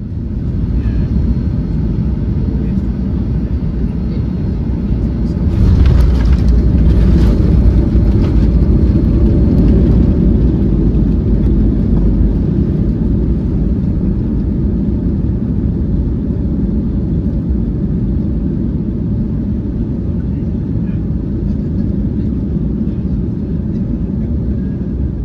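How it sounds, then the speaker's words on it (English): A Virgin passenger jet touches down on runway 34 at Melbourne, heard from inside the cabin as a loud, steady engine and rolling rumble with a brief bump of louder noise near the middle. "We did then make an approach offering some views of the Melbourne CBD in the distance before touching down on"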